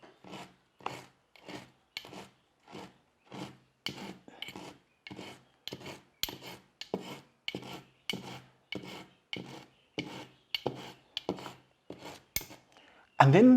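Homemade animal feed being mixed by scooping outward, giving about twenty rhythmic, evenly spaced rasping scrapes at close range with brief pauses between strokes and no voices.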